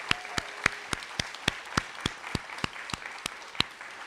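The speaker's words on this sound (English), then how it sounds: "So audience, please again, give our graduates a round of applause." Sparse, evenly paced claps ring out, roughly three or four per second, like a small group applauding graduates at an adult education graduation ceremony, with light crowd murmur beneath.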